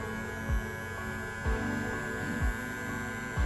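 Ladybug electric hair clipper running, a steady buzzing hum with a sharp tonal whine and a few soft thumps, no talking.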